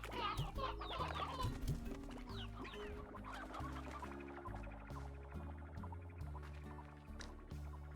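Chickens cluck and chatter in the Slime Rancher video game, a busy flock of repeated clucks over a faint looping rhythmic game music bed, with no voices.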